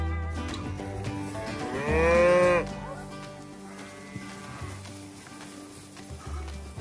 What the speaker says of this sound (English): Look at all these hungry cows.